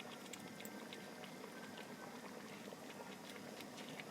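Meat sizzling and frying in a pot as ginger, garlic and green chili paste is stirred in for aloo gosht, a steady dense crackle and bubbling that runs unbroken and close throughout.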